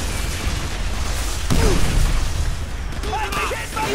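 A grenade blasts amid Call of Duty: World at War combat, a heavy low boom rising mid-clip over continuous battle noise, with shouted voices in the background.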